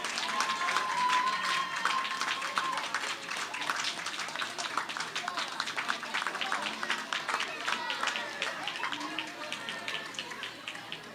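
Audience at a university graduation ceremony applauding, a sustained, dense crowd clapping with a faint tone near the start and bits of crowd noise, gradually thinning toward the end.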